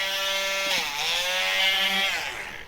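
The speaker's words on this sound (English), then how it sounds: "you can kind of hear the Dremel even stop" A Dremel rotary tool grinding a dog's nails gives a loud, close, high-pitched whine that dips briefly in pitch under load, then climbs back before fading slightly at the end.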